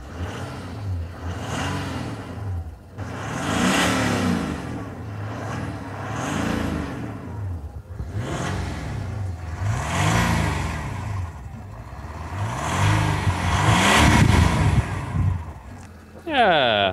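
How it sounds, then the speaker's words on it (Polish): A used Mercedes W211 E420 CDI diesel, with 400,000 km on the clock, starts and revs in a series of rising and falling surges, loud and close, with people talking nearby. "prosiłbym, żebyś odpalił samochód i zrobimy jakąś krótką przygazówkę"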